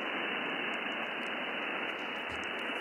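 Ham radio receiver tuned to the open 10-meter band, giving a steady, loud hiss of static and white noise throughout with no clear voices emerging.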